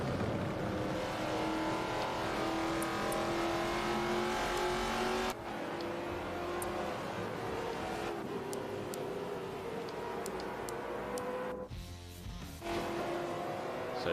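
Race car engine in a racing video game at Maple Valley, a sustained loud whine holding a steady pitch, cut by abrupt shifts and a brief dropout near the end, with no voices.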